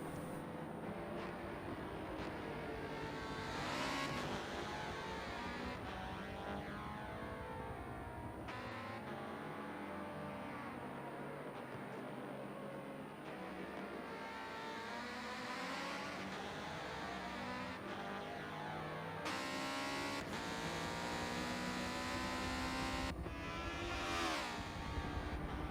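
Race cars lapping Daytona in a racing video game, a continuous dense engine drone with revving and shifting pitch sweeps, several cars overlapping, steady and loud throughout with no voices.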